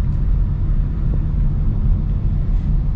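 A 2025 Chevy Trailblazer Activ's three-cylinder engine gives a steady, loud low rumble from start to finish, with no voices.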